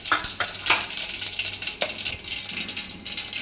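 Hot oil sizzles steadily as mustard seeds, cumin, green chillies and onions fry, with a few sharp scrapes and clinks of a spoon stirring against the pan.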